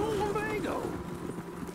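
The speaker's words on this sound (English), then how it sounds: "I ran over his horse." Red Dead Redemption 2 gameplay brings a horse's whinny with a sliding, wavering pitch, followed by hooves clopping on the ground, with a voice talking over it.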